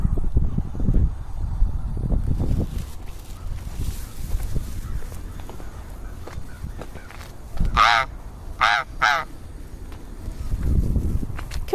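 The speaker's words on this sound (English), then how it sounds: "look, there's a lot of crows. They're all crying out." Several crows caw outdoors during a winter walk, a few harsh calls in quick succession mid-way, with muffled footsteps and handling noise around them.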